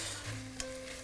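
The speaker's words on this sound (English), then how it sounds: "Once you hear that kind of sizzle a little bit," Food sizzles steadily in a pan on a hob turned up to medium-high, with white wine about to be added; a continuous close hiss with one brief louder crackle partway through, no talking.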